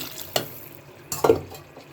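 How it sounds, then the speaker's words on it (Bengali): Gravy water splashes briefly into a pot of beef curry with fried koi fish and papaya, with a short pour and a sloshing stir nearby, otherwise quiet. "এবার দিয়ে দেবো কিছুটা ঝোলের পানি"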